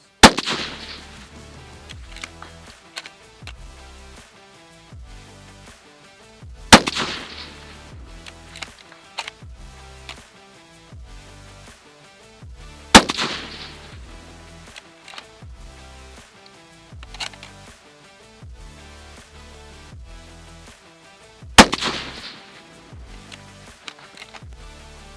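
Four sharp, loud Lithgow LA105 rifle shots fire several seconds apart at a range, each followed by a decaying echo, with quieter clicks and handling noises between them.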